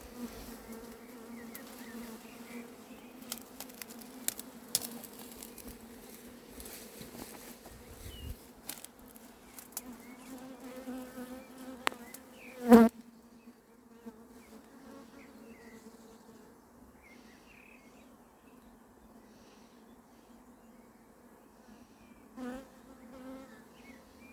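A steady hum of a swarm of honeybees buzzing continues throughout, fairly soft, with one brief sharp knock near the middle and faint rustles around it.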